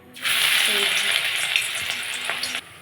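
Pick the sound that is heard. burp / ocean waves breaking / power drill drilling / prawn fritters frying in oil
prawn fritters frying in oil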